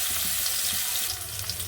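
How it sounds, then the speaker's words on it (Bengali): Whole cardamom, cinnamon, cloves and cumin seeds sizzle in hot oil in a home kitchen, a steady close hiss with faint crackles running throughout. "তেলে আমি এলাচ, দারচিনি, লবঙ্গ আর গোটা জিরে দিয়ে দিলাম।"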